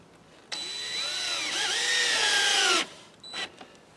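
A power drill drives a screw into a wall panel during wall assembly for a small bungalow, a close, loud whine lasting about two seconds with its pitch shifting under load, then a brief second burst.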